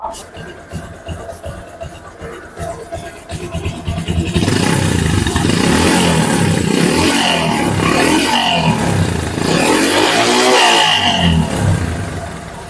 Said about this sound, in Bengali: এখন আমরা গাড়িটির সাউন্ড কোয়ালিটি শোনাবো।